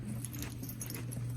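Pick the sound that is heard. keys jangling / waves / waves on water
keys jangling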